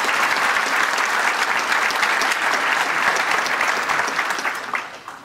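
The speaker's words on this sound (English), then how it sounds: "Could I have a round of applause for them, please?" A room of attendees at a police awards luncheon gives a sustained round of applause, thick and loud, holding steady for several seconds before tapering off at the end.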